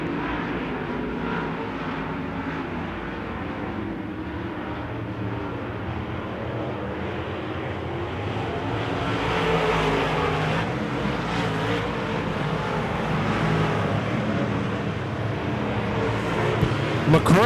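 Wissota modified race cars roaring around a dirt track during a heat race, a dense continuous engine drone heard from a distance with a slight rise midway, while a race announcer talks over it.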